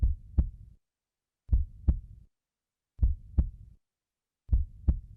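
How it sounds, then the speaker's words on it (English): Low-health heartbeat in a Minecraft mod, heard alone as four evenly spaced lub-dub pairs about 1.5 seconds apart, each a deep, soft thump quickly followed by a second one, with silence between pairs. "Players with 3 hearts or less have a heartbeat."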